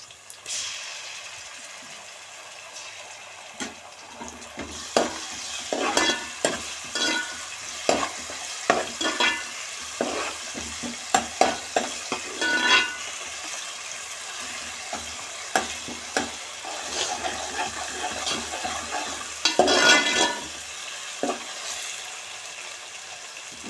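Ginger garlic paste fries in a pan for fish curry, a loud sizzling hiss broken by repeated scraping and clattering strokes of a spoon stirring, close up with no voices.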